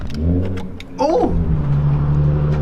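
A Volkswagen Jetta passing on a nearby road, its engine revving up with a rising whine and then settling into a steady drone, heard from a garage over background noise.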